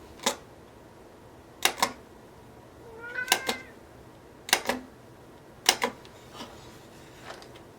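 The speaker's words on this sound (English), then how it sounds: "Sorry about that. That's my cat." A pet cat gives a single brief meow partway through, surrounded by crisp paired clicks of a hole punch being worked on paper at close range.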